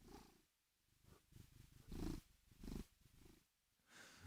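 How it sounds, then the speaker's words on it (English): A wet cat purrs close to the microphone in a slow, rhythmic rumble, each breath swelling and easing in a quiet, steady cycle with no voices. "Listen to that purr."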